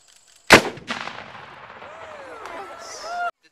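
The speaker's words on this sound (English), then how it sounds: "They load up their muskets, they wait first," A volley of musket fire at a Saratoga battle reenactment bursts out as one loud close crack, followed by a rolling echo and scattered smaller reports, with voices faintly audible afterward.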